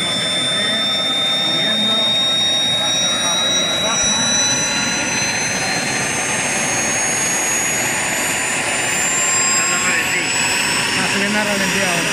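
A small jet engine rated at 160,000 rpm and 10 kg of thrust runs steadily with a loud, sustained roar and high whistling whine, and its pitch drifts slightly upward.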